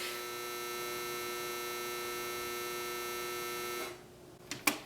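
A clothes dryer runs with a steady, droning hum for several seconds, then shuts off abruptly, leaving near quiet broken by a couple of sharp clicks.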